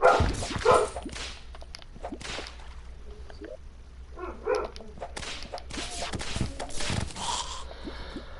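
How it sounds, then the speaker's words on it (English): A dog whines and gives short barks and snorts in bursts, fairly close and at moderate volume, with no talk over it. "Why are you whining and barking?"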